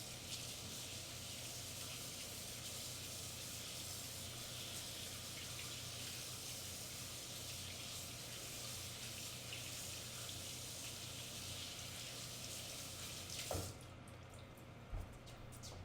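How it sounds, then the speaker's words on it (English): Hands are rinsed under a running kitchen tap during fried chicken preparation, a steady, soft hiss of flowing water that stops near the end, followed by a couple of faint knocks. "Let me wash my hands off quick."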